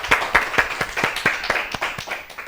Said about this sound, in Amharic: ሲ አጨብጭቡለት፣ በደንብ አጨብጭቡለት።